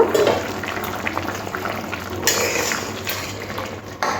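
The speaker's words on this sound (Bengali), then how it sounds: "খুব ভালো করে ফুটে উঠেছে" Liquid bubbles at a rolling boil in a pot of fish curry with potatoes and green bananas, a steady close gurgling with occasional brief clinks of utensils.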